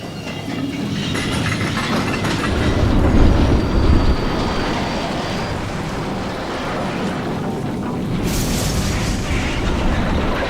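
A heavy steam locomotive train rumbles loudly and continuously, a deep roar with rattling and clanking layered over it throughout.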